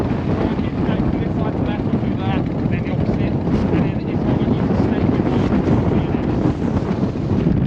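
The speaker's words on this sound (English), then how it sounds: "It's very windy." Strong wind buffets the microphone in a constant roaring rush at an outdoor motorcycle film shoot, with faint voices barely audible underneath.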